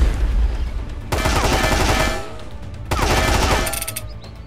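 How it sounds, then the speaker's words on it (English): Gunfire from an enemy in the survival video game Mist Survival, two loud sustained bursts of rapid shots separated by a short pause, with no talk over them. "And he's gonna shoot again."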